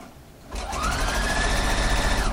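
A sewing machine fitted with a blind hemming foot runs a zigzag stitch on stretch knitted fabric, starting up after a quiet moment into a steady, close whirring hum that holds even throughout.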